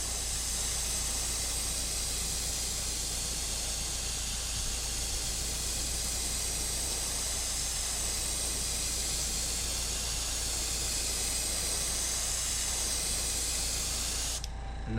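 An airbrush sprays black, ready-to-use model paint onto the back of a fishing lure, giving a continuous close, even hiss that holds steady for the whole stretch and cuts off abruptly at the end.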